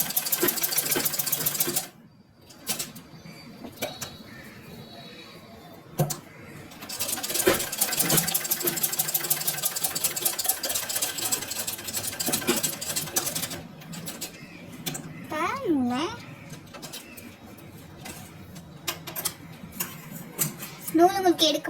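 A sewing machine stitches cloth in a straight line during a tailoring practice lesson, its rapid mechanical whirr starting and stopping in bursts, with someone talking over and between the runs.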